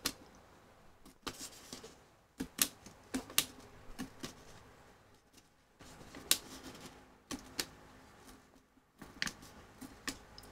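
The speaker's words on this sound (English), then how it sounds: "you can hear it poke, poke. So it's piercing the paper and the skin of the pumpkin." A sharp pointed tool pokes through a paper pattern into the skin of a pumpkin, producing a string of crisp, quiet clicks and pops at an uneven pace against a faint background.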